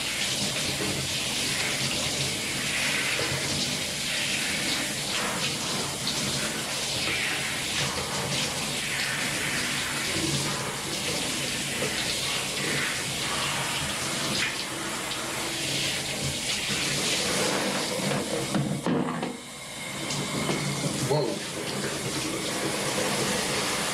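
A Jack Russell terrier gets rinsed in a bath under a strong, steady gush of running water that continues almost without break, close and loud, with a short dip near the end.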